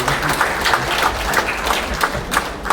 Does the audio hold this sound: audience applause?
yes